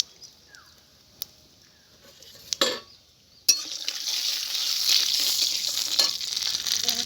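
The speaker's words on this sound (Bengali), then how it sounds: "আমি ফোড়নে দেবো সর্ষে, সামান্য একটু লবণ দিয়ে দিচ্ছি।" Mustard seeds tempering in hot oil, starting with a few sparse pops and clinks, then a sudden loud burst into steady, close, crackling sizzle that carries on to the end.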